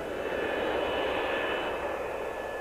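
A McDonnell Douglas F-15 fighter jet roars overhead with a dense, continuous engine rush that holds loud and steady throughout, without voices.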